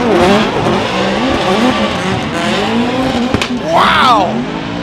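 Formula Drift cars battle at a drift event in Atlanta, engines roaring loud and continuous with tire squeal and sharp revving that rises near the end, while a voice talks over the noise.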